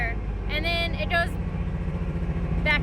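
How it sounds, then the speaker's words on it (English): A rotary-engined Nissan S15 idles roughly with a misfire, giving a low, uneven, throbbing pulse that runs steadily throughout while people talk over it. "still have a misfire. Something's going on."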